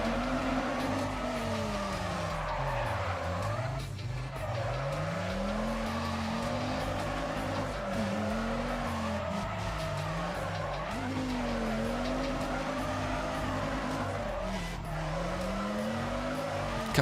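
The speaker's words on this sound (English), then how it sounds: "Bit of handbrake action." Racing video game car under handbrake, engine tone swooping up and down with repeated squealing tire skids through turns, steady and loud throughout, no talk.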